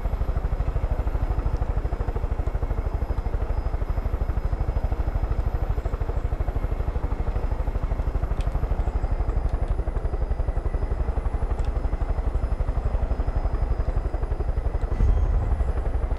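Helicopter flying in the video game Far Cry 5: a steady, loud rotor chop and engine drone runs unbroken for the whole stretch, close and dominant, with a brief low thump near the end.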